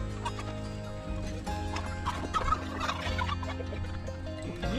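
Poultry on a homestead cluck and gobble in a busy, close flock, with overlapping calls and shuffling over a steady background hum.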